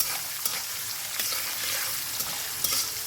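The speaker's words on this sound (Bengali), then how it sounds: "ফোড়নটা ভাজা হয়ে গেছে, ছোলাটাও ভাজা হয়ে গেছে।" Whole spices for tempering and chickpeas fry for a vegetarian Bengali kochu shak. A close, even crackling sizzle runs throughout, broken by a few light stirring clicks, with no voices.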